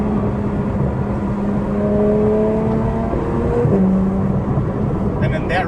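A Porsche 992 GT3 fitted with a Dundon exhaust holds a steady engine drone at moderate level, its tone shifting partway through as revs change, with faint talk alongside.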